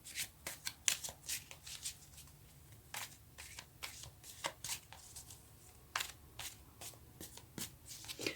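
Tarot cards being shuffled and laid out, a run of crisp riffling bursts and soft slaps at uneven intervals, close but fairly quiet, with no voices.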